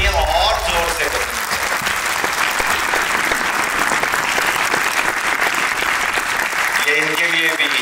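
An audience claps loudly and continuously at a Sikh arts and film festival. The applause is dense and close and runs throughout.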